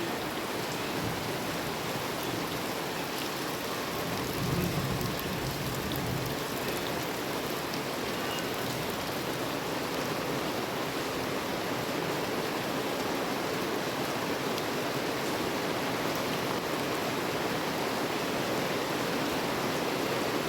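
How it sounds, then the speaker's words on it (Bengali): Steady rain falls hard and evenly on surfaces around a house being readied for a celebration, a dense continuous hiss lasting throughout with no talking. "আরে বৃষ্টি!"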